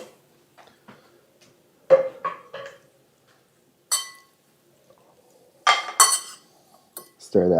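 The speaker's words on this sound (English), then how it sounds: "Stir that up." Corn pancake batter stirred in a bowl with a utensil, heard as scattered close clinks and scrapes against the bowl in short clusters, separated by near silence.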